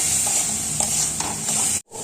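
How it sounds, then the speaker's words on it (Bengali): Loud, continuous sizzling of spices frying in a pan, with soft scraping strokes as they are stirred, then a brief cut to silence near the end. "এবারে সবটাকে আমি ভালো করে কষাবো সমস্ত মশলাটা যাতে কাঁচা ভাবটা না থাকে"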